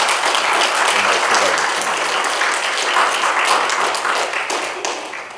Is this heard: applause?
yes